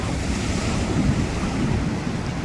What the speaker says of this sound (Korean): 바람이 부니까 이렇게 파도는 이어도